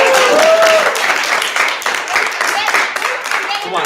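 Audience applause at a student thespian award night as winners' names are read, a continuous wash of many hands clapping in a hall, with voices and cheers mixed in.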